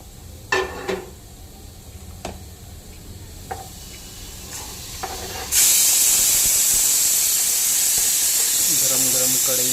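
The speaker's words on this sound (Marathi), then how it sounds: "गरम गरम कढईमध्ये टोमॅटोने आपली आहुती दिलेली आहे." Tomatoes dropped into a hot kadai while cooking a Konkan green cashew curry, setting off a sudden loud, sustained hissing sizzle that runs on after a few earlier clinks and taps.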